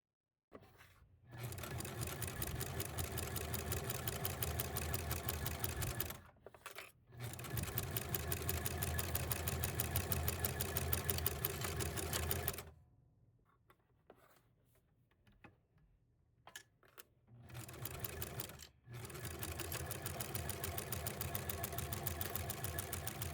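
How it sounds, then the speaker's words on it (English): A sewing machine sews a quarter-inch seam on a fabric basket in long steady buzzing runs, briefly paused several times, with a quieter stretch of handling noise before stitching resumes. "we're just going to take this to the sewing machine and sew with a 1/4 inch seam allowance"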